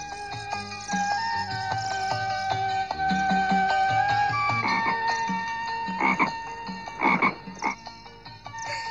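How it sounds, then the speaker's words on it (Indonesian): A chorus of frogs croaking, layered repeated calls with steady rhythmic pulses and a few louder bursts near the end, continuous and close with no voices. "Ayo katak-katak yang menemaniku."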